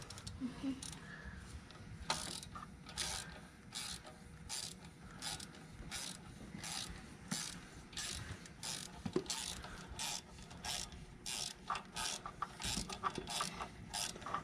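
A ratchet wrench with a socket clicks in quick, regular bursts of sharp ratcheting, fairly faint and close, repeating steadily with short pauses and no talk.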